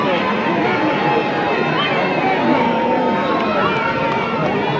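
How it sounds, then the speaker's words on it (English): A large crowd at a political party gathering applauds and cheers as the party's national chairman is welcomed, a dense, continuous roar of clapping and babble that holds at a steady loud level throughout. "Applause, help me welcome the National Chairman General Asiedu Nketia."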